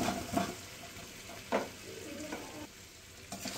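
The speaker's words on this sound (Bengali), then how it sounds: "আলুর সাথে মশলার সাথে খুব ভালো মতো আবারও কষিয়ে নেব" Potatoes and green peas sautéed with spices in a pan, with a soft sizzle and intermittent scraping stirs of a spoon, quiet and close.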